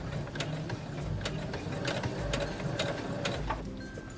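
Sewing machine running a plain seam, a close, steady mechanical whir of gears and needle strokes that pauses briefly and then carries on.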